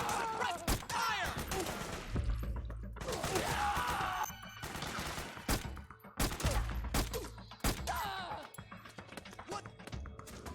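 Dense, loud bursts of rapid gunfire and explosions fill the battle in Metal Gear Solid 4: Guns of the Patriots, with volleys recurring throughout and voices shouting between them.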